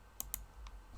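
Faint, crisp clicks of a computer mouse, three or four separate taps spaced through a quiet second, close and dry in a still room.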